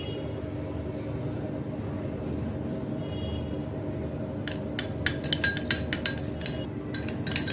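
A spoon whisks two spoonfuls of sour curd (yogurt) in a bowl for a mutton curry marinade, giving quick, rhythmic, close clinks that start partway through over a low, steady background hum.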